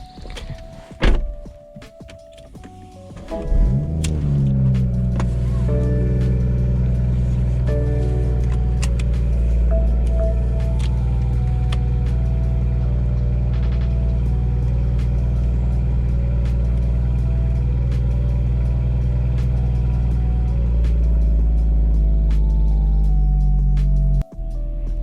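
A BMW 440i with a dual resonator delete drives on a rain-soaked road. A deep, steady engine and exhaust drone is heard up close under constant road noise, with a few thunks at the start.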